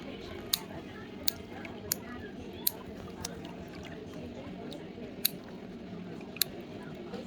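Toenails are clipped short with sharp, separate snips every second or so during a gel pedicure, after the polish has been drilled off, over a low background hum.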